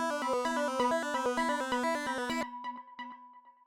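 Solo lead synthesizer with a little delay and no reverb, playing a fast, bright run of repeated stepped notes, loud and close, then cutting off so short delay echoes trail away alone.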